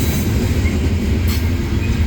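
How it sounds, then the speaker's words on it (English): A CSX coal train rolls close by at low speed while picking up speed. It gives off a steady, loud rumble of railcars with faint wheel squeal and a clattering rhythm, and no voices are heard. "It is indeed a coal train."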